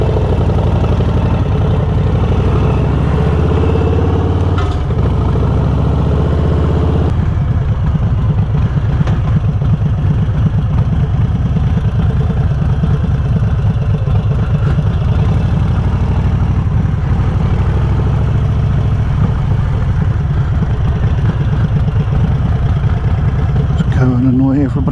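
A Harley-Davidson Fat Bob motorcycle engine running steadily, a loud, deep, continuous rumble close by that holds for the whole stretch with slight shifts in tone, with talk over it.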